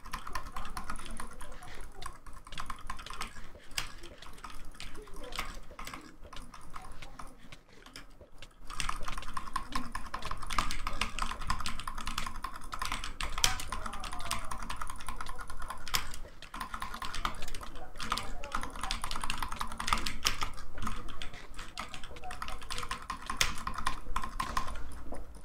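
A computer keyboard and mouse click rapidly and continuously during Minecraft HCF PvP combat, a dense, close stream of clicks and key taps with a brief lull partway through.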